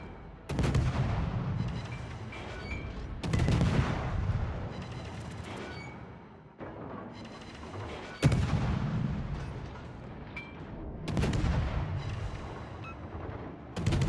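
Destroyer guns in World of Warships fire repeatedly, heavy booming salvos arriving every couple of seconds, each loud blast trailing into rumbling decay before the next.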